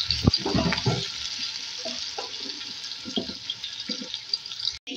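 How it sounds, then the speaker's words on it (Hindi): Seven medium chopped onions fry in hot oil for a chicken biryani, giving a steady close sizzle with occasional stirring clinks and scrapes. "देखिए प्याज जो है फ्राई हो रही है"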